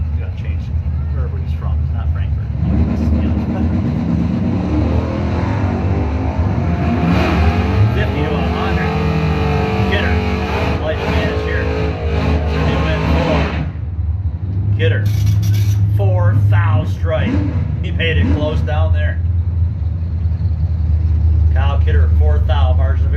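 A 1994 Mustang GT and a 1979 Camaro drag race, with loud engines roaring and revving throughout. An announcer talks over the engine noise.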